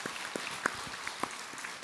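An audience at a monk's talk gives light, scattered applause, faint and uneven, with a few individual claps standing out.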